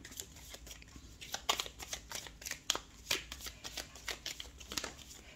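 Tarot cards shuffled by hand in repeated riffling bursts, close and fairly quiet, a steady run of crisp fluttering rasps with brief pauses between them and no voices.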